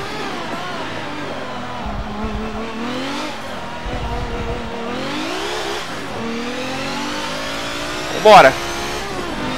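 A Nissan Skyline GT race car in Forza Motorsport 7 revs hard through repeated gear shifts, engine pitch climbing and dropping, with a short tire squeal near the end and someone talking over it.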